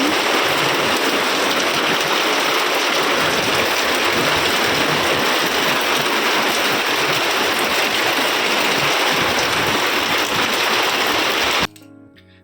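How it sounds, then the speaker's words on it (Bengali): Heavy storm rain pours down, heard from a rooftop as a dense, loud, steady hiss and patter that runs continuously before stopping abruptly near the end. "এই দেখো কি জোর বৃষ্টি, ঝড় বৃষ্টি, ঝড় বৃষ্টি"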